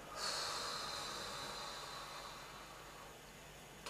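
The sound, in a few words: deep breath in and slow breath out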